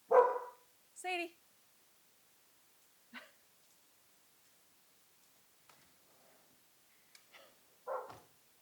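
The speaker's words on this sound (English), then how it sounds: "we've left the barking dog out on the porch to bark at the cows in the pasture field" A dog barks from a porch at cows in a pasture: two close barks at the start, then a few fainter yips and one more bark near the end, with long quiet gaps between.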